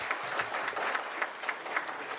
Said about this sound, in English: Mr. Meriweather, give him another round of applause.